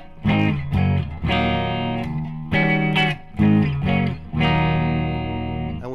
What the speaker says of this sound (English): in phase, both humbuckers sound like this